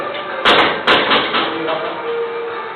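A door is closed with a couple of solid knocking thuds in quick succession, close and fairly loud over a steady background hum.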